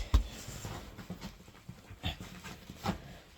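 Pet dog panting in short irregular breaths close by, with faint soft whimpers, fairly quiet indoors and no talking.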